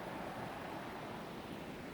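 Eagle Creek running past Eagle Fern Camp near Estacada, a steady, dense rush of flowing water filling the whole stretch without pause, close and even in level, with no voices.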